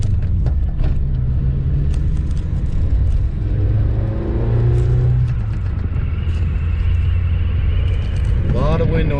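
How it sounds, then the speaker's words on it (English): A manual 1979 Honda barn-find car cruising with steady low engine and road rumble, broadband wind noise roaring in through a leaky door, and people talking over it. "A lot of wind noise out of this door."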